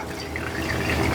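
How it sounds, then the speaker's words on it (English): Strained elderberry juice drips and trickles steadily through a strainer, close and fairly loud, a short unbroken liquid patter with no voices. "We'll let that drip."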